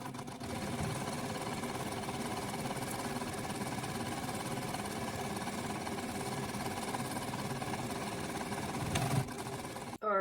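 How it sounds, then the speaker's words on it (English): A sewing machine stitches an envelope pillow cover in a steady, continuous mechanical whir that holds evenly for about nine seconds before a brief stop and restart at the end. "we are just going to go and stitch"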